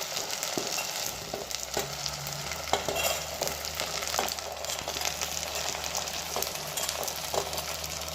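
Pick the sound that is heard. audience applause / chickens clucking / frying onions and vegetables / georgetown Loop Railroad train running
frying onions and vegetables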